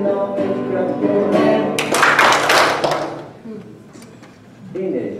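A church congregation at a Baptist Sunday morning service claps hands along to a sing-along, a short loud burst of clapping rising between voices and music, then fading as talking resumes.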